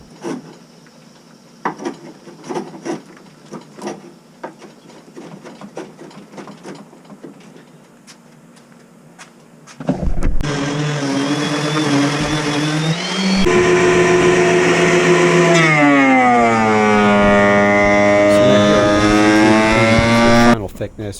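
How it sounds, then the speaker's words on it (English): Power tools smooth the edge of a maple live-edge slab, first the scrape planer and then a sander, a loud steady whining drone with shifting pitch running over the second half after quieter clatter and talk. "So now I'm cleaning up the edge with a scrape planer and sander."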